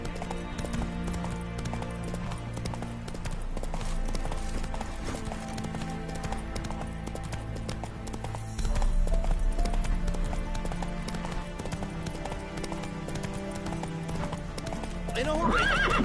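The horse Roach trots through The Witcher 3 in quick, even hoofbeats with an occasional whinny, heard beneath game music and characters talking.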